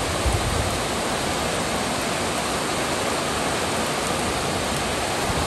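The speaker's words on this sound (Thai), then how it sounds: "ฝนแรงมากนะคะ" Heavy storm rain pours down in a steady, dense roar that stays loud and unbroken, heard from a house during a nighttime storm with wind-driven rain and flooding nearby.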